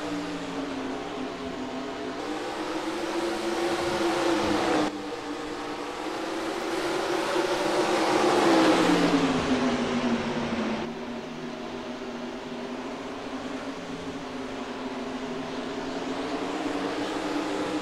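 Penzo Truck Series trucks race on the Eldora dirt track, engines droning and rising in pitch as they pass, a sustained loud roar that swells toward the middle and then settles back.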